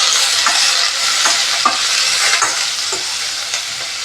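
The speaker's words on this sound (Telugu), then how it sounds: "కొంచెం వెల్లుల్లిపాయలు ఇదైంది అనుకున్నప్పుడు బ్రోకలీ వేసేసుకోవాలి." Garlic and broccoli fry in butter in a pan, a steady loud sizzle running throughout, broken by several light scraping stirs at irregular intervals, with no one talking.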